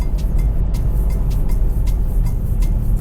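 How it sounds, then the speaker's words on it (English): A car drives down a road near a beach in Okinawa, a steady close rumble of engine and road noise inside the vehicle, continuous with faint periodic ticks and no talk. "so we're driving down the road"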